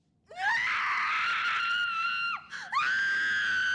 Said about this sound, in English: She can scream with the best of them.